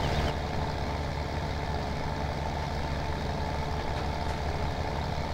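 Tractor engine in a farming video game on Giants Island, a steady loud low diesel drone and rumble that stays constant throughout, with no talking.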